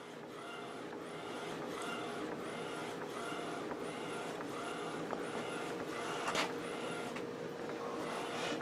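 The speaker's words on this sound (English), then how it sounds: "Matte paper, and I'm printing with our Ultra Pro pigment ink." Epson Artisan 1430 inkjet printer running pigment ink onto matte paper, a steady mechanical whir with repeating carriage passes and faint clicks, fairly close and continuous throughout without speech.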